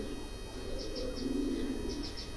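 Pigeons coo softly on a rooftop loft, low murmuring calls over a steady background hiss, with faint higher chirps drifting in at a distance.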